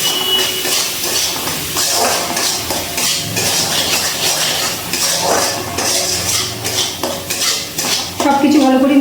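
Pieces of bata fish are mixed by hand or spoon with Kashmiri chili powder and salt in a bowl, giving loud, continuous clattering, scraping and clinking of utensil on dish throughout.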